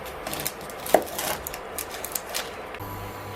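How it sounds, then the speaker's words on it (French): A knife chops an onion on a cutting board in a kitchen, giving a few scattered, close, sharp taps with quiet pauses between them. "Entre-temps, on va couper cet oignon."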